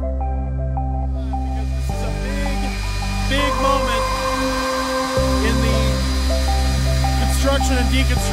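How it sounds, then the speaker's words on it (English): A CS Unitec magnetic drill bores holes through titanium wing beams for splice plates on a Boeing 747 at the Mojave Air and Spaceport, a loud sustained whine with steady motor tones that dip briefly midway. "drilling the final holes for the splice plates for the titanium wing beams"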